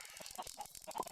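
Chickens on a video game farm cluck in a quick, uneven run of short calls, fairly close and moderately loud, with no talking over them.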